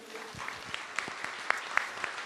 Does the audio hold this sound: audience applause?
yes